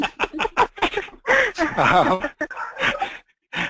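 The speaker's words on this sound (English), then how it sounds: "Oh no, my dog's barking." A dog yips and barks excitedly in rapid, uneven bursts, with whining squeals in between, close and loud.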